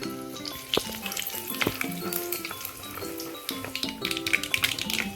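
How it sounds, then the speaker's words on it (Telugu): Sliced onions, green chillies and curry leaves dropped into hot tempering oil for a brinjal fry, crackling and sizzling loudly and continuously, with a few taps and stirring clinks of a spoon against the pan, no voices. "దీంట్లోకి ఇప్పుడు కట్ చేసి పెట్టుకున్న పచ్చిమిర్చి, ఆనియన్స్, కరివేపాకుని యాడ్ చేశాను తాలింపులోకి. వీటిని కూడా దోరగా వేయించుకోవాలి."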